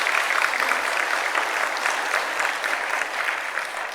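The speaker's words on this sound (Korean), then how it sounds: "너무 예쁘다고 좀 칭찬해 박수 좀 부탁드리겠습니다" Steady applause from a church congregation during a Sunday afternoon service, honoring the youth group. The dense clapping is moderately loud and even, and it runs the whole time without any voices over it.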